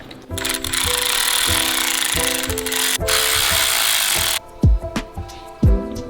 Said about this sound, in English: now unbolting the PCV piece that goes onto the cover here.